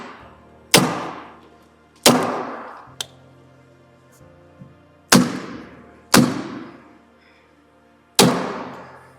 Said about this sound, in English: Get your staple gun ready.